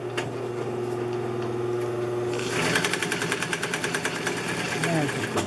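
A Singer 211U566 walking foot industrial sewing machine starts up partway through and stitches in a steady rapid mechanical rhythm, with a faint motor hum running beforehand.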